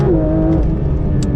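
Porsche 911 GT3 RS (992, 2023) engine near its 9,000 RPM redline, a loud close high-pitched wail that falls away over about a second, alone without talk.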